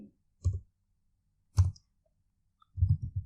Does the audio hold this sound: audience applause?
no